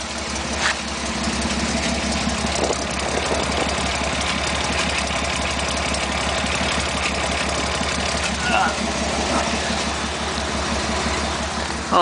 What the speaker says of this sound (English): Glass packs are actually nice and quiet till you get on them, and then they sound pretty good.